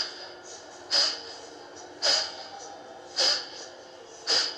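Kapalbhati yoga breathing, with four forceful nasal exhalations spaced about a second apart, each a sharp close snort-like burst over quiet background.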